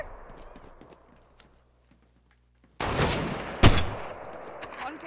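A Dragon's Breath shotgun in the Fortnite video game goes off with a sudden loud blast after quiet, followed by a second sharp boom and a fiery roaring tail, with faint game sounds before it.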